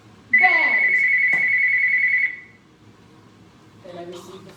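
A telephone gives a single steady, piercing electronic ring lasting about two seconds. A faint voice follows near the end.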